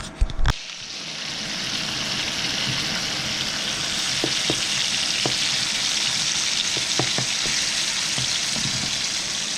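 Meat sizzles steadily in a seasoned skillet with salt and garlic, a dense, continuous frying hiss up close, broken by a few faint pops and scrapes and one louder clatter at the start.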